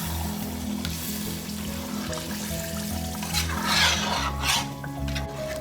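A spoon stirring tomato puree into chicken, spices and yogurt in a cooking pot: steady wet scraping and squelching with soft sizzling underneath, close and moderately loud, with a swell of scraping midway.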